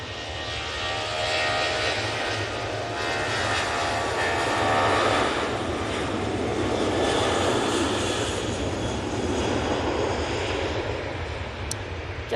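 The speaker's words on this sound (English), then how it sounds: "Jet2 737-800 now on the roll to Porte." A Jet2 Boeing 737-800 airliner roars down the runway on its takeoff roll at Manchester Airport, a broad, loud jet-engine rumble that swells and holds steady, heard from a distance with no voices.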